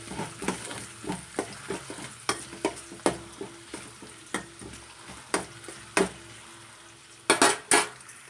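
Onions frying for tandoori noodles, a soft sizzle under a steady series of sharp spatula knocks and scrapes against the pan, roughly one every half second, ending in a few louder clatters, close and without talk.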